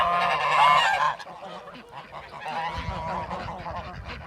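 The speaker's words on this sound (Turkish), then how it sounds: "burada kazlar ördekler serbest dolaşıyorlar" Geese honk loudly and repeatedly at close range on a goose farm, a noisy overlapping flock calling with harsh, nasal cries.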